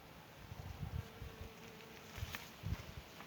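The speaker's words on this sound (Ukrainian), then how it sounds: "Бджоли літають, ще опиляють квіточки." Faint buzzing of bees moving around flowers, drifting in and out in short bursts over a quiet outdoor background.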